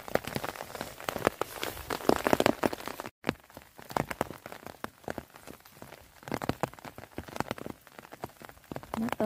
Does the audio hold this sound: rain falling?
yes